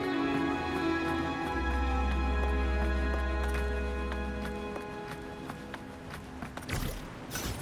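Horse hooves clip-clop in Wuthering Waves, a steady run of hoofbeats set against sustained background music that swells and then fades toward a brief louder burst at the end.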